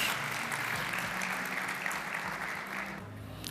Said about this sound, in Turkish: Kuvvetli bir alkışla